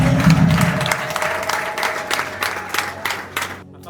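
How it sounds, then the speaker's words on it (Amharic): A church congregation claps together, a loud burst of dense applause that swells at first and then continues in uneven waves before fading out near the end. "ለእግዚአብሔር ክብር አጨብጭቡለት።"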